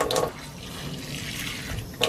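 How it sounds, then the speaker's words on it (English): Water poured onto a potted succulent, soaking the soil in a short gentle trickle that swells briefly at the start and again at the end, with soft splashing in between. "the first time you water a succulent, you want to water it all the way through"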